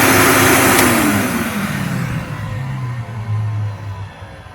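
A vintage vacuum cleaner motor runs loud and close at first, then its hum drops in pitch and fades, with a lower droning tone lingering as it winds down.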